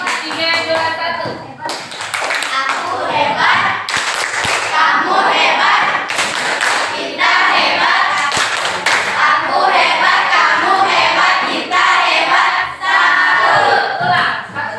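A school class performs the rhythmic "tepuk hebat" clapping routine, loud patterned bursts of group claps and slaps mixed with chanting voices.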